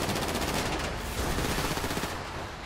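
Sustained automatic gunfire during a GTA V Online mission, a dense rattling burst of shots that holds steady for a few seconds at moderate loudness with no voices over it.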